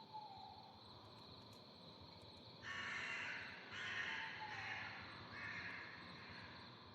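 Several crows caw in bursts from about the third second on, fairly loud against a steady buzzing insect or cricket background outdoors near a house.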